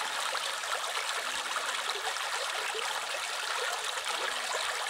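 A small river runs strongly with a dense, continuous rushing and gurgling of water, close and steady throughout with no voices.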